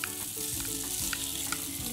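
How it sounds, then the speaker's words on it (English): Tofu frying in a hot pan with ginger and garlic chili sauce gives a steady, close sizzle that holds throughout, with faint crackles popping over it. "Tofu, I'm going to add it now."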